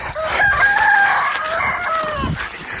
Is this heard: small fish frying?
no